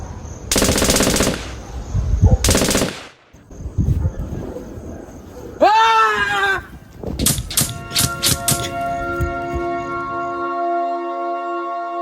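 Gunfire sound effect in a Filipino drama: two loud bursts of shots, a squawking bird-like cry, then a rapid volley of sharp cracks that gives way to sustained ringing tones, with no voices.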